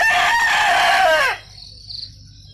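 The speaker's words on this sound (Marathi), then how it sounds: "इथे सकाळी सकाळी कोंबड्याची बांग आणि पक्ष्यांचा सुमधुर कलकलाट ऐकू येतो" A rooster gives one loud, close crow on a village farm in the morning. The crow rises, holds and breaks off after about a second and a half, leaving quiet air with faint chirping birds.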